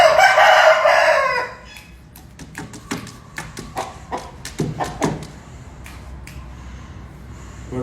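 An Aseel rooster crows loudly and close by, then gives a run of short sharp clucks and snorting sounds against quiet outdoor background.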